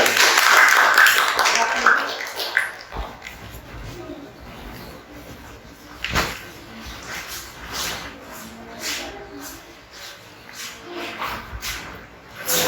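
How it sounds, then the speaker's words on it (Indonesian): A classroom group applauds a presenting team: dense, steady clapping for about three seconds, then a scattered trickle of claps that fades under quiet room noise. "kita beri tepuk tangan untuk kelompok 3 yang sudah hadir"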